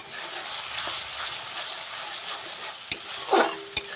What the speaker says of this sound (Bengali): যতক্ষণ না পর্যন্ত তেল ছাড়বে ততক্ষণ পর্যন্ত আমি কষিয়ে নেব ভালো করে।